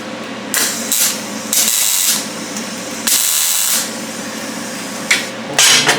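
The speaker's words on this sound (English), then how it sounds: "So we're going to just tack this on here." Short bursts of a welder crackle and hiss as scrap metal pieces are tack welded into a pencil holder. Several separate loud buzzing bursts are broken by pauses, with no talking.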